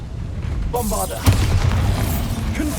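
A Bombarda spell blast in the video game Hogwarts Legacy: a sudden booming burst about a second in, followed by rumbling magical effects, with a short voice-like fragment before it.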